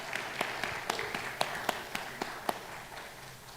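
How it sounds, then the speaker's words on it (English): An audience applauds for Kyle at a ceremony, with scattered, fairly faint claps that come and go over a few seconds, and no voices over them. "So we're going to go ahead and clap for Kyle"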